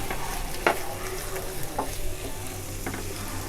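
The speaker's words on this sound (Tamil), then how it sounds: "சேர்த்துட்டு ஒரு 2-3 நிமிஷத்துக்கு நல்லா இதை வதக்கி விடுங்க இந்த மசாலா கூட." Prawns stir-frying with pepper masala in a pan, a steady sizzle with a few sharp scrapes and stirring clicks spread through, fairly close with no talking.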